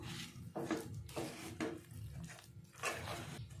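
A spoon scrapes and clinks against a pan while stirring a sweet vermicelli (semiya) mixture, several soft scraping strokes, quiet and close, with no talk.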